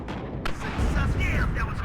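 Tank cannon fire from an M1 Abrams in the WARNO strategy video game, a loud booming blast with a rumbling low tail that lingers under a voice speaking.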